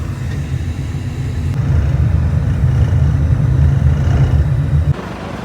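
Inside a moving sleeper bus at night, a steady low engine and road rumble drones loudly and continuously, easing slightly near the end, with no talking.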